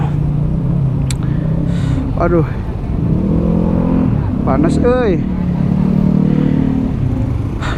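A Yamaha NMAX scooter crawls through a traffic jam, its low engine rumble steady beneath nearby vehicles and brief high squeals, while someone talks over it throughout.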